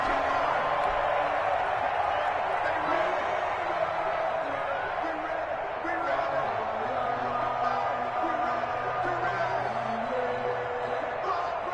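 Stadium crowd at an NFL game between the Houston Texans and New York Jets in a football video game, a dense continuous roar and cheer heard under a commentator's talking.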